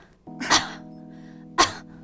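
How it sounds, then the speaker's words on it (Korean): Two short, sharp coughs a second apart, close and dry, over a low steady hum. "이제 배에 힘주는 거 잘 모르시는 분들은 헛기침을 한번 해보세요."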